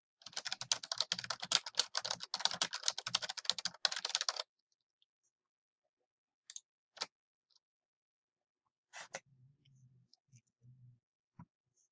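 Rapid, close clicking of keys on a computer keyboard fills the first few seconds, then falls quiet, broken only by a few scattered clicks and taps afterward.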